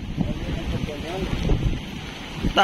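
Strong typhoon wind roaring steadily at Dinahican, Infanta, Quezon, buffeting the microphone as broadband rumble with rustling, while people talk faintly underneath throughout.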